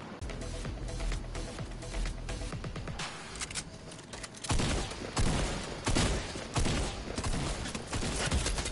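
Rapid bursts of gunfire ring out in the Fortnite video game, clustered shots and volleys that come in uneven bunches, fairly loud and close, with scattered clatter between them.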